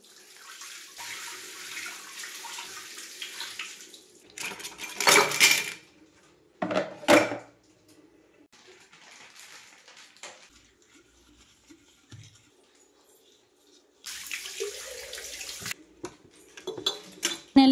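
Tap water running intermittently over an oily kitchen tray being washed in an Indian kitchen sink, with bursts of splashing, clinks of metal and quieter gaps between rinses.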